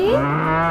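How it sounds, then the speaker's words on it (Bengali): A cow standing with its calf in a Bengali alphabet cartoon lets out a short, clear moo, loud and close, with a rising then steady tone and no talk. "গরু বাছুর দাঁড়িয়ে আছে"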